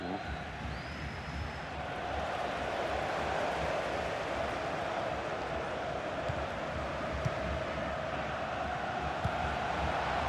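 Stadium crowd in a football video game applauding a goalkeeper's save, a steady broad roar of clapping and cheering that holds evenly throughout.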